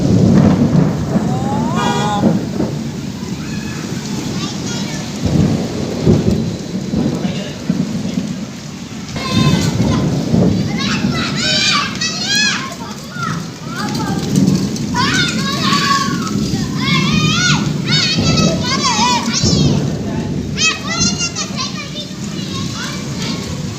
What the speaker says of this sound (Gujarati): ભારે વરસાદ છે ભાઈ